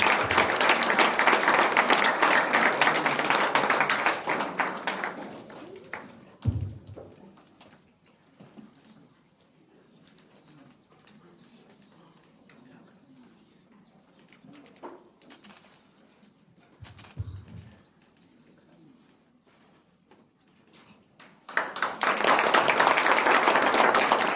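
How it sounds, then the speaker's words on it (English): Audience applause at a graduation ceremony: a sustained burst of clapping from a crowd fades out, followed by a long quiet stretch, and then a second loud round of applause rises at the end. "Round of applause."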